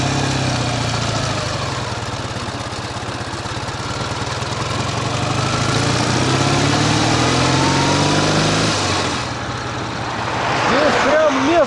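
A Ural motorcycle rides along the road, its engine droning steadily with shifting pitch and wind rush, loud and close. A rider talks over it near the end.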